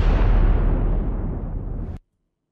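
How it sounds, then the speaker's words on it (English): A single loud explosion effect in a video about houses, a deep booming roar that fades over about two seconds and then cuts off sharply into silence. "I don't like the explosions and stuff."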